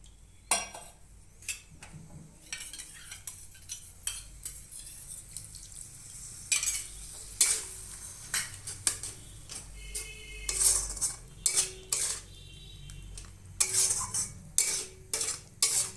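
A spoon stirs and scrapes spice paste for a nadosh fish curry around a pan, making irregular metallic clinks and scrapes over a soft, low frying background.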